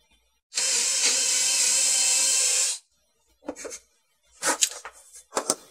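A drill whirs steadily for about two seconds as it bores into a wooden post, then stops, followed by a few short knocks and scraping sounds.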